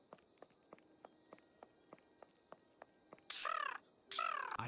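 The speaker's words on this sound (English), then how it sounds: "I hear a bird, Holmes" A bird calls in Sherlock Holmes: Nemesis: two loud, harsh cries near the end, after a run of evenly spaced soft taps, like footsteps, over a quiet, faintly hissing background.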